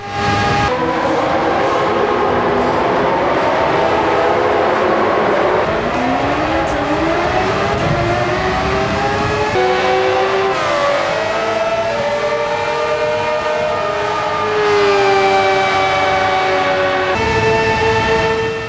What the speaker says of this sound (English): The roar of the V12 and the V8 engines in the A and B models really adds to the immersion